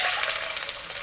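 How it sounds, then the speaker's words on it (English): Steady gush of water, 250 ml, poured into a pan during stir-fry cooking, a continuous bright splashing rush heard up close and fairly loud, with no talking. "Add in 250 milliliters of water."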